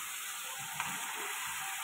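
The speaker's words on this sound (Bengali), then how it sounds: "এবার তেল ছেড়ে এসছে, দেখো তেল ছেড়ে এসছে মশলা দিয়ে। এবার মাছটা দিয়ে দেবো।" Pabda fish frying in hot oil with spices, a dense steady sizzle close by with a brief clink as something touches the pan.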